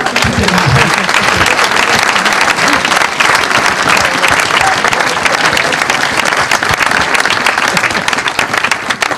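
A church congregation claps and cheers loudly to acclaim Jesus, a dense, sustained wall of applause from a large crowd with voices mixed in.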